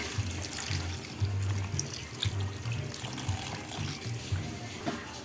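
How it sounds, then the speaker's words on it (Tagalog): Water runs from a tap into a cooking pot of sautéed tomatoes for monggo, a steady splashing stream close by, with a low hum and clatter underneath. "Lagyan tayo ng tubig."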